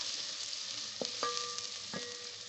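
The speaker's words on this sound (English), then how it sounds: "Our oil is nice and hot. In goes our onions. I'm going to give it a stir." Onions sizzle steadily in hot oil in a pan while a spoon stirs them, with a few sharp clinks of utensil against the pan over the continuous frying hiss.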